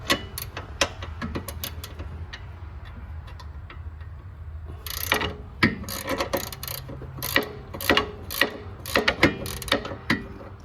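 A wrench ratchets in quick clicking bursts while loosening a rear sway bar link nut on a Ford Escape on a shop lift, with irregular runs of sharp ticks that grow louder and denser partway through.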